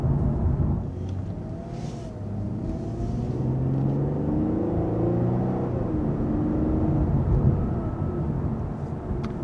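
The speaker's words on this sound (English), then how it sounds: "One of the things you notice about this engine is the fact that it's naturally aspirated." A 2021 Lexus IS 350 F-Sport's naturally aspirated engine hums steadily from inside the cabin, its pitch gently rising and falling as revs swell and ease over several seconds.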